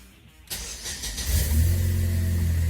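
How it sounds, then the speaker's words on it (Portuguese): A car engine is started with the start-stop button while the brake is held: a sharp onset, then the engine catches with a rising rumble and settles into a steady, close idle, with no talking. "Quero ligar o carro, aperto o freio."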